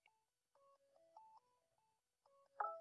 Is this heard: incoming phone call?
yes